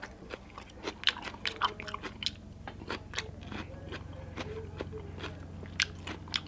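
Crunchy chewing of papaya salad with shrimp and cucumber, close and fairly quiet: steady bites and crackling crunches repeating throughout with no talking.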